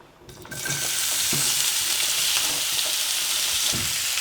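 Onions frying in olive oil in a pan: a steady, loud sizzle that swells in after a quiet start and holds throughout, with occasional soft stirring scrapes.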